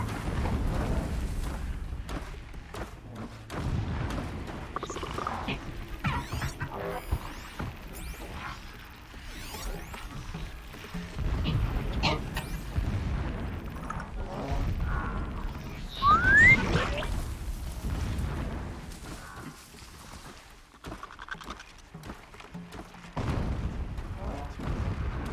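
In the video game Horizon Zero Dawn, scattered booming explosions and mechanical clanks come through at moderate loudness, some sounding distant, while someone talks over parts of it.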